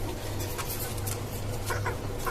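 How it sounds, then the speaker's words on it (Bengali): Desi chickens kept in three-tier cages on a five-storey rooftop farm cluck softly and intermittently against a steady low background hum, with no voices. "এই হচ্ছে আপনার আমার দেশি মুরগির খামার"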